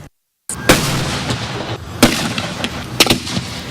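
Fireworks going off on the 4th of July, heard as several sharp bangs and crackling bursts in quick irregular succession after a brief silence, fairly loud and close, with no talk.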